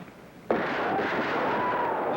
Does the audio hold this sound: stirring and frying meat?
no